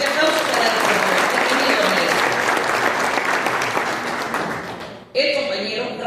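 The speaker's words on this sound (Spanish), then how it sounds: "El fuerte aplauso para" Strong, sustained applause from a conference audience at a labour-law event rolls on for about five seconds, then dips briefly as a voice begins speaking over the continuing clapping.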